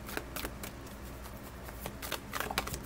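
Tarot cards are shuffled by hand close up, a series of quick riffling bursts and soft papery slaps in an uneven rhythm, quiet and without talk.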